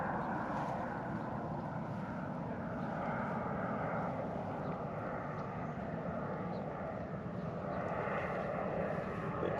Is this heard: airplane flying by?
yes